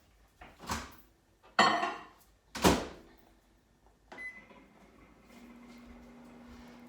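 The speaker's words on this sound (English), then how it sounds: "put them in my microwave to melt it for a couple of seconds" A kitchen microwave heats a bowl of peanut butter and chocolate chips after a few sharp clunks of the bowl and door, then settles into a steady low hum.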